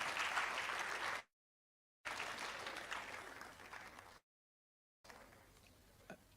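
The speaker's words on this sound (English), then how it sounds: "Please let's give a big round of applause to our chairperson." Applause from the audience for the chairperson at a public lecture, steady clapping cut by two silent gaps and then continuing more softly, with a faint voice near the end.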